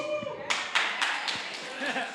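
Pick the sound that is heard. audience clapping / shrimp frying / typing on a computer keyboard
audience clapping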